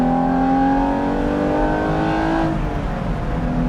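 Engine of a Ruf SCR revving with the windows down, a loud steady drone with rising and falling harmonic tones heard from inside the cabin, easing off near the end.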